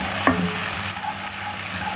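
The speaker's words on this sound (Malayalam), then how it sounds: "ഇതൊന്ന് വഴറ്റാം." Turmeric and coriander powder sautéing in hot oil for a restaurant-style mushroom masala, giving a steady, close sizzle with a brief stir scrape near the start.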